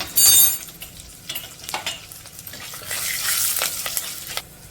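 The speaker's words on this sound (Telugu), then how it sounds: "చూడండి పోపు బాగా వేగింది." Curry leaves, dried red chilies and turmeric powder frying in oil in a pan as a village-style tempering, with steady sizzling and occasional stirring scrapes, close and moderately loud, no talk.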